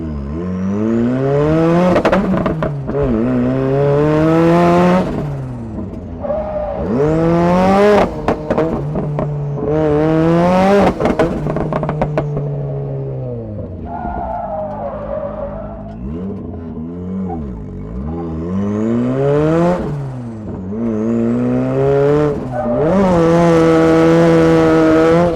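A 300 bhp Mazda MX5 drift car's engine revs hard through repeated rising and falling sweeps, loud and close, with gear changes between pulls and a brief tyre-scrubbing whine mid-run, no talking.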